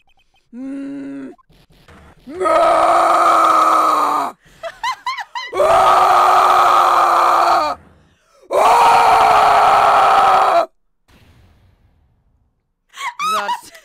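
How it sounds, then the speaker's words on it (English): A character screams in the Phoenix Wright: Ace Attorney video game, with three long, loud, sustained cries separated by short gaps and shorter vocal sounds in between. "That scream!"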